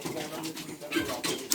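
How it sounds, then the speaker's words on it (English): Poultry birds gathered in one place, calling and cooing in a loose chorus over a short stretch, with bursts of louder calls and some background voice-like noise. "I always see this in movies where birds gather at one place."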